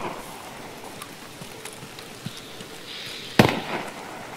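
A single sharp, loud SVD rifle gunshot crack rings out in the video game Escape From Tarkov, amid faint scattered distant pops and a steady ambient hiss.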